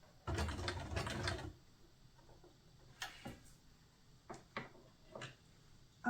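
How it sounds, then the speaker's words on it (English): A sewing machine whirs in a dense burst for about a second as it stitches through card, then quiet mechanical ticks and taps follow at a low level. "my sewing machine is sewing through this card and all these other bits and pieces perfectly"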